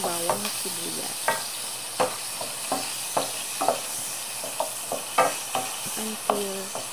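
Garlic and onion sautéing in a pan for kare-kare, with a steady sizzle of frying under repeated close scraping strokes of a spatula stirring the mixture, no talking.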